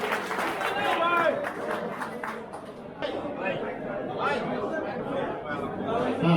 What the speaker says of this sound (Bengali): সবাই তো জোরে হাততালি